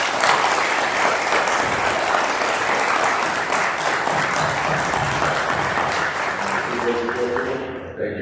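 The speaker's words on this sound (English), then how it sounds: "Let's give them another round of applause." Sustained audience applause at an awards ceremony, a dense, loud wash of clapping from a large crowd that fades out near the end as a voice begins speaking.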